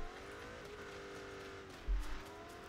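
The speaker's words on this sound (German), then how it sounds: "Das hört sich an wie ein Motorrad." An approaching motorcycle engine in PUBG, a faint whining drone whose pitch shifts slightly as it nears, with a short low thump toward the end.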